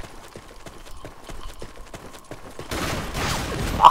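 Gunfire in a video game as a pig is shot: a rapid series of sharp, evenly spaced shots, fairly loud, followed by a louder burst of noisy rushing sound near the end, with no speech.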